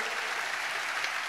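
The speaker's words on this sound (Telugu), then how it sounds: "చప్పట్లు కొడుతూ స్తోత్రాలు చెప్దాం." Church worshippers clap their hands while giving praise, a brief and fairly soft burst of even, continuous applause with no talk over it.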